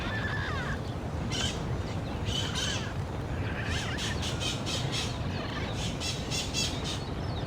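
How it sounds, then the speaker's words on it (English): Parrots in the video game Civilization VII squawk repeatedly in harsh, loud calls over constant rustling jungle noise, overlapping and irregular like a busy aviary, with no voices. "It has got parrots aplenty, hasn't it? I feel like I'm in an aviary."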